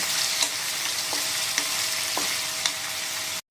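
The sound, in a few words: paneer frying in a pan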